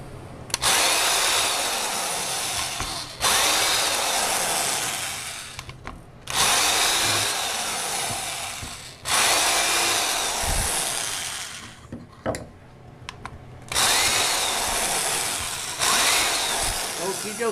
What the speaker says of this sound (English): So now I'm going to do the 1/8 inch hole to finish the